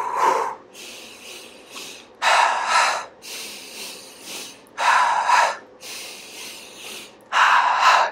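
Rhythmic breathing while running, paced to footsteps: four loud, breathy exhale bursts roughly every two and a half seconds, each lasting about a second, with softer inhale noise between them, close to the mic and no talking.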